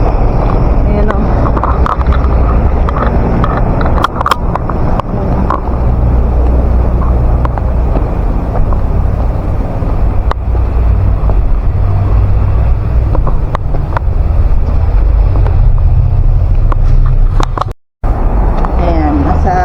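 Strong wind buffets the microphone outdoors while leaving a church, a steady roaring rumble throughout with a brief dropout near the end, and people talk intermittently under it.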